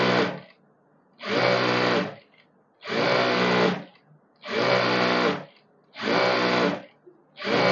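A sewing machine stitching elastic onto the waistband of palazzo pants runs in five loud, close bursts of rapid whirring, each about a second long, separated by quiet pauses.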